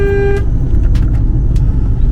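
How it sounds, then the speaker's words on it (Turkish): Heavy vehicle traffic with a bus passing close by on a road with a 50 km/h limit, a steady loud engine rumble throughout and a brief horn-like tone at the start. "bak otobüsü geçiyor"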